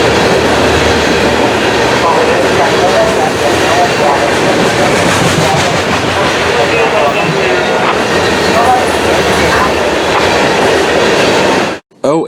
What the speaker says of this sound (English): a coal train that was originally an NO40 or NO41, bound for Stanton Electric's OUC power station here in Orlando